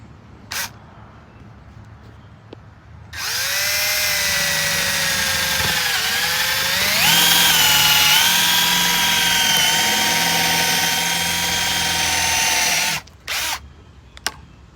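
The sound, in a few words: power drill drilling a pilot hole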